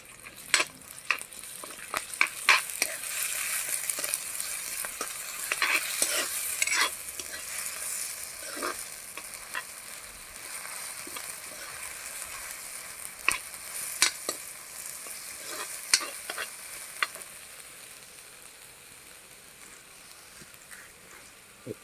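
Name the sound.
chicken being stirred and fried in a pan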